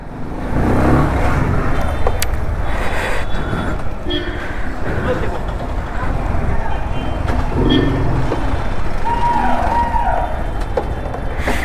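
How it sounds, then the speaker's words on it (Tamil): Dense, loud road traffic hums and rumbles steadily around a delivery rider stuck in a jam, with engines droning, a beeping tone and occasional horns as people talk nearby. "என்ன டிராஃபிக்னா டிராஃபிக்கு."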